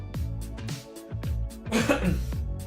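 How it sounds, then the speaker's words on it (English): A man coughs a few times in quick bursts, close to the microphone, with short pauses between the harsh, throaty expulsions. "I had to cough"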